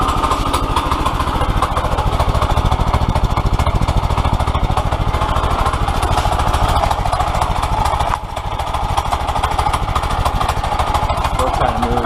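A Predator 212cc small engine runs steadily on an ATV quad, a close, loud, continuous putter with a brief dip near the end.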